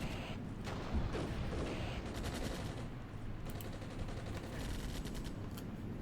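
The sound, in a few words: gunfire nearby in Armored Brigade video game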